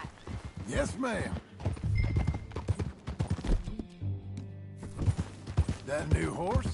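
Horse hooves clip-clop at a riding pace in a Western video game, steady and rhythmic under frequent overlapping voices talking.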